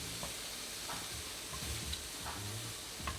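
Shrimp sizzling in a frying pan as pieces are lifted out, a steady close hiss broken by soft scrapes and clinks of the utensil.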